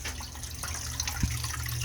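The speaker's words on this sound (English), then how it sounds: "when it does turn on, it takes the water out of here really fast" A sump pump drains water out of its pit with a steady, rushing and gurgling flow, heard close and continuous without speech.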